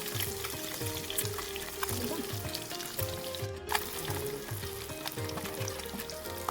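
Eggs seasoned with salt and turmeric fry in a pan with a dense, steady sizzle that crackles continuously throughout, with faint background tones underneath.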